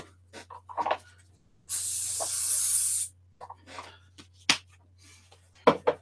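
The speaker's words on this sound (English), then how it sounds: "I'm just going to spray a bit more on that one." A spray bottle mists liquid onto a paper label to loosen it from card: one long, close, hissing burst of about a second and a half, framed by small tapping and handling noises before and after.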